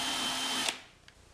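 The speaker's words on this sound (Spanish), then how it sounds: "Taladramos un agujero de 6 milímetros." An electric drill bores a 6 mm hole in a wooden board, a steady high whine that cuts off and winds down, followed by a faint click.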